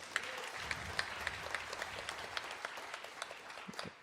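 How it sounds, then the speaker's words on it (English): Applause from a live music-venue audience for Pump House Records at a 19 Miles to Music Row show, a continuous crowd clapping wash with a few sharper individual claps and whoops, fairly close and sustained. "Give them a round of applause."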